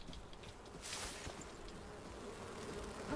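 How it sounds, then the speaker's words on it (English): Bees buzz around the player in the survival game Enshrouded, a soft steady insect drone with a brief louder rise, heard quietly with no talk. "I told you bees were following"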